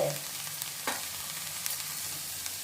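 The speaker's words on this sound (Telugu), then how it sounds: "కొంతసేపు అట్లా వేపుకోవాలి" Spongy dosa batter spiced with chilies fries in a hot pan, giving a steady soft sizzle with a few faint stirring scrapes.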